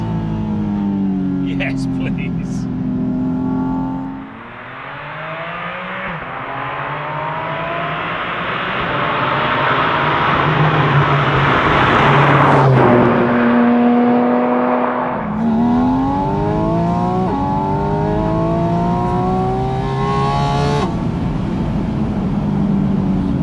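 The engine of a Porsche Spyder RS rises and falls through the gears while driving, loud and close, with a voice speaking over it.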